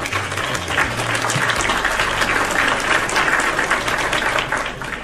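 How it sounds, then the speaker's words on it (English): A dense, loud wash of crowd applause plays as a sound effect, steady and unbroken for about five seconds over a low constant hum. "You get a round of applause."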